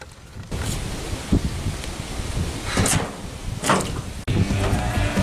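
Wind blowing through an outdoor ravine, a steady broadband rush with stronger gusts surging and fading, buffeting close against the microphone throughout.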